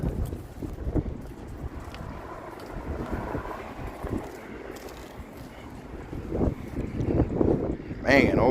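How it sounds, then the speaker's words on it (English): Gusty wind buffets the microphone outdoors beside an old Chevrolet Nova SS, a steady low rumble that swells louder toward the end, with a person talking over it. "Golly, it's windy out here."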